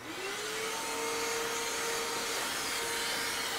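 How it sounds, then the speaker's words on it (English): A vacuum cleaner removing lint from inside a Samsung dryer runs steadily and loudly throughout, its motor whine rising briefly at the start and then holding a constant drone. "So vacuum it."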